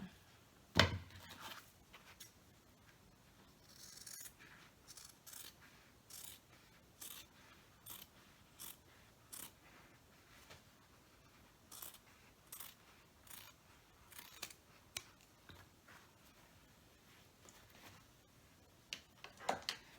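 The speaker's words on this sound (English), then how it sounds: "There is a little excess fabric right here, so I'm just going to trim that." Scissors trimming excess fabric from a tote bag, with a long series of regular, crisp snipping clicks at close range, fairly faint, with no talk.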